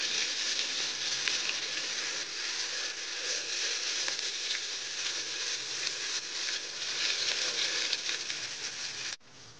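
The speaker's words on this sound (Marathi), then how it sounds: "आता ह्या बारीक चिरलेला कांदा तेलात घालून घेऊया।" Finely chopped onion frying in hot oil for a mutton trotters curry, a steady, even sizzle and crackle held close and loud throughout, cutting off abruptly at the very end, with no voices.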